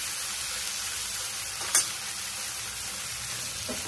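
Chickpeas sizzle in hot tempering oil with coriander-cumin powder, turmeric and chili, a dense steady frying hiss with one brief clink from a utensil.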